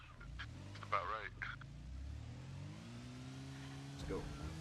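A car engine in the video game Arma Reforger revs and strains at full throttle, a rising and falling mid-pitched drone with a brief burst of talk or noise near the start.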